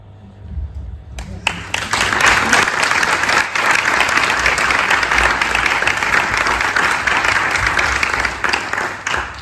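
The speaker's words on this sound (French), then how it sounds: "Oui, je pense qu'on peut vraiment l'applaudir" After a quiet opening second, a large audience bursts into sustained applause and clapping that holds loud and steady for the rest of the moment, with a crowd murmur underneath and no clear speech.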